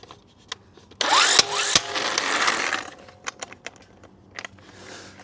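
Bursts from a Vevor electric impact wrench working a stuck nut: a loud rattling hammer run of about two seconds, then scattered clicks and short knocks.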